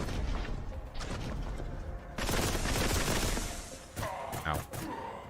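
Gunfire and explosions from the bolt gun in the shooter game Warhammer 40,000: Boltgun, with dense, sustained bursts of shots and booms at close range. A loud stretch mid-clip is followed by sharp bursts toward the end.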